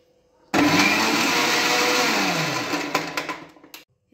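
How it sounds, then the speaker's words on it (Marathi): A kitchen mixer churns cream with two or three ice cubes to make butter, starting abruptly with a loud whirring roar that holds steady, then slows and rattles to a stop near the end. "2-3 आईस क्यूब टाकणार आहोत आणि मिक्सर 5 मिनिटांकरता अधून मधून बंद"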